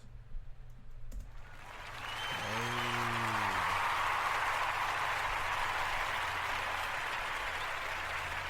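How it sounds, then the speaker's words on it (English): Applause swells in after a couple of seconds of quiet clicking and a short voice, then holds as a broad, steady wash of clapping, likely a canned track in a podcast studio. "I'm going to give myself a round of applause"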